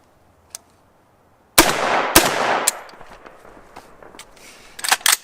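A rifle with a K-Spec bolt carrier group fires unsuppressed mil-spec rounds, loud sharp cracks in a quick string after a lone early shot, followed by scattered clicks and metallic clatter, then another rapid pair of shots.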